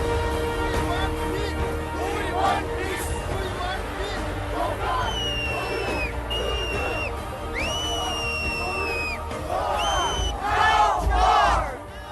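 Large crowd of protest marchers in New York City cheering and chanting, a loud sustained roar of voices with shouts and whistles rising above it.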